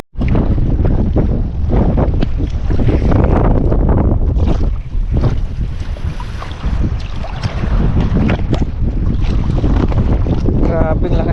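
Strong wind roars and buffets the microphone continuously at an outdoor fishing spot, with a faint watery wash underneath and brief bursts of a voice.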